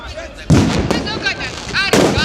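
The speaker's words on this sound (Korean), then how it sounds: "계속 이렇게 불꽃놀이를 하니까 아, 진짜 아직도 귀가 아프네" New Year fireworks bursting over Tbilisi at close range, loud explosive booms at about half a second and again near two seconds, with crackling in between and voices reacting over the din.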